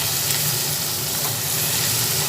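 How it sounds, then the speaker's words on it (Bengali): Fish mash frying in a pan with turmeric and Kashmiri chili powder, a steady, loud, close sizzle that holds constant throughout with no talking. "একসঙ্গে সব দিয়ে এরপরে এটা ভেজে নিচ্ছি"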